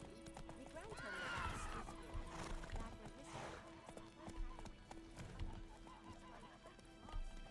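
A horse whinnies, then hooves clip-clop over scattered ambient game sounds in the video game The Witcher 3, moderately faint.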